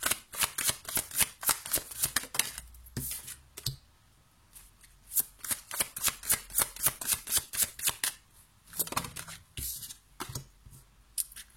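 Tarot cards being shuffled by hand: quick bursts of crisp riffling flaps, close and fairly quiet, paused briefly midway then resumed in rapid repeated runs.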